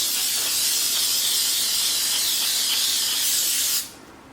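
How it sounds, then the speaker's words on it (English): Cooking spray hisses steadily onto a muffin tin in one continuous, close burst of nearly four seconds, then cuts off abruptly, leaving quiet room tone. "We are just going to spray our muffin tin pretty well."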